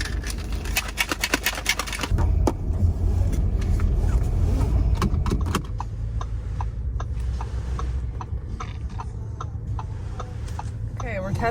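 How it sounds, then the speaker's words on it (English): Interior of a Lexus RX on a test drive: a steady low road and engine rumble with clicking and ticking from inside the cabin, while people talk over it. "We are test driving a Lexus right now."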